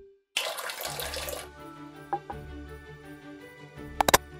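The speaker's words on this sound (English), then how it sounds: "Next is pour some water," Water runs briefly but strongly into a blender for about a second, followed by a low hum and a few sharp clicks near the end, with no voices.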